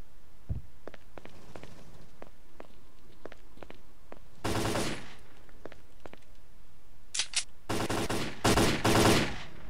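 Gunfire in the video game Lost Alpha, set in Pripyat: scattered single shots and faint footsteps lead into several loud sustained bursts of automatic fire, with quick rapid volleys near the end.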